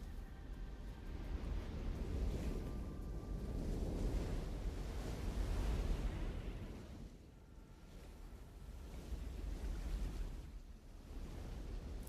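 Ocean waves on a Hawaiian black sand shore of crushed volcanic rock, a faint rolling surf wash that swells and recedes in slow surges, with some wind noise.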